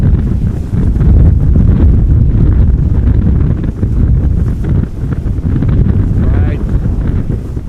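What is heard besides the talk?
crosswind blowing over the microphone at Amsterdam Schiphol Airport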